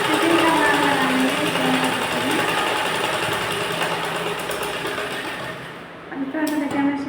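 A sewing machine stitches a round blouse, running in a steady rapid whir for several seconds, slowing and pausing, then starting up again, with a voice heard faintly at times.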